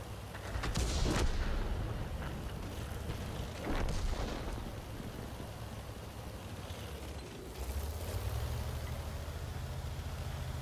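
Pz.Sfl. IVc self-propelled gun firing in a tank video game, heavy booms landing roughly every few seconds over a constant low engine rumble.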